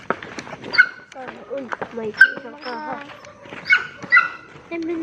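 A dog barks and yips several times at close range, with whimpering in between, while people talk over it.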